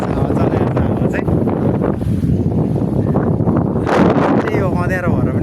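Gusty wind buffets the microphone outdoors as dusk falls and rain threatens, a steady low roar that rises in a stronger gust near the end. People talk over it.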